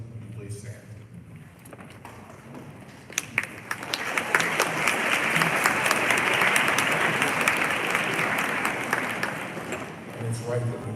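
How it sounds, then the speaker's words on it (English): Audience at a high school Veterans Day program bursts into applause for standing veterans, swelling from scattered claps into a full, loud, sustained ovation that tapers at the end, with a voice briefly heard before it builds. "And it's right that we can't hold our applause."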